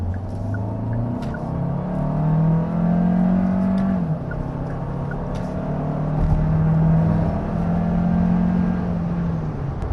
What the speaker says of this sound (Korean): 이게 저배기량, 나름 저배기량의 터보 엔진이다 보니까 엔진이 뭐 터질 것 같은 소리를 내는 게 있고요